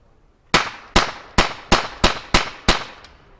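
Seven sharp blank rounds fired in quick succession from a German 9mm sidearm at a 1940s-themed outdoor event, each report loud and close with a short decaying ring, spaced under half a second apart.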